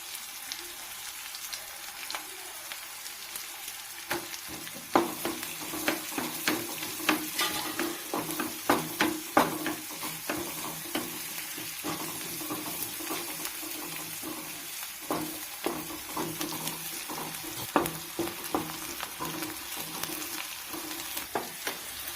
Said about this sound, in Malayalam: നമ്മുടെ ഉള്ളിയും മുളകും കടുകും എല്ലാം ഇത് മൂത്ത് വരാറായി